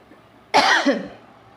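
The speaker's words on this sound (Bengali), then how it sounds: "গলার মধ্যে খুসখুস করছিল, কাশি আসছিল" A single sharp cough bursts out after a quiet moment, with a short rasping tail, close to the microphone.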